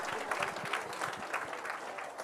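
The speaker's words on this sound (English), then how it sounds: "Let's have a big round of applause for NMH." A crowd at a cycling race prize-giving claps for its media partners. The applause is steady and fairly close, with a few louder individual claps standing out.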